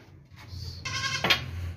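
A stocky, thick-waisted goat bleats once, loud and close, a short harmonic cry over low background rumble.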